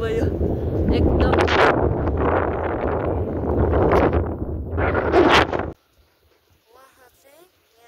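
Strong wind sweeping across a hilltop by Ramakrishna Paramhansa's meditation cave, loud roaring gusts buffeting close for several seconds before cutting off abruptly into near silence.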